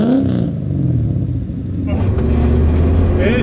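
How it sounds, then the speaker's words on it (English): A car engine rumbles steadily, then rises as the car pulls away, heard from inside the cabin under people's talk. "Let's go for a drive."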